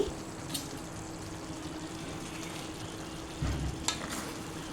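Thick chicken curry is stirred around a pan with a soft scraping, over a low steady sizzle and a couple of brief clinks.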